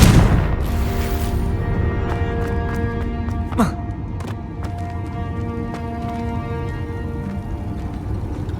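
A Confringo spell explosion in the Hogwarts Legacy video game bursts loudly at the start and decays quickly, followed by a brief sharp crack, all beneath sustained orchestral game music.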